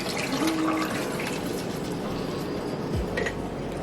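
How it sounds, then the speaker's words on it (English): Water is poured into a pot of Jamaican brown stew chicken cooking on the stove, a steady close splashing and filling sound that lasts throughout with little else around it. "I'm gonna go ahead and add some more water."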